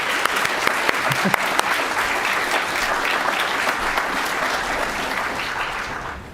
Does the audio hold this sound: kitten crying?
no